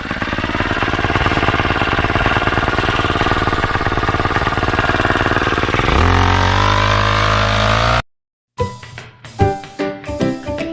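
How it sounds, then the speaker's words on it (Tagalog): A grass cutter engine drones loudly and steadily up close on a farm, its pitch shifting partway through, then cuts out and gives way to uneven rattling engine noise. "Grass cutter muna tayo."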